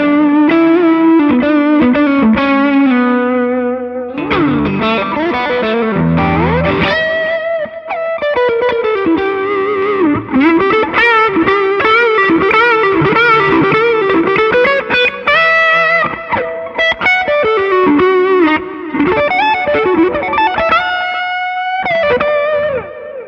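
Electric guitar played through an Xotic BB Preamp pedal with the mids boosted to maximum gives a driven, distorted tone with sharp treble. Loud, close riffs and chords run continuously with no talking.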